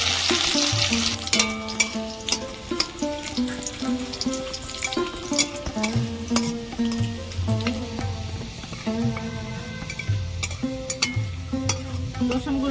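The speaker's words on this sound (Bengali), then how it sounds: "তেল গরম হয়ে গেছে রসুন কুচি দিয়ে দেবো" Chopped garlic hitting hot oil in a wok, a continuous crackling sizzle with occasional scraping, heard beneath fairly loud melodic background music throughout.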